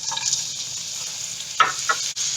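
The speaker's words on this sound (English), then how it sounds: "I'm going to fry the anchovy." Anchovies frying in about a tablespoon and a half of oil in a wok over high heat, a steady close sizzle with a couple of short scraping stirs near the end.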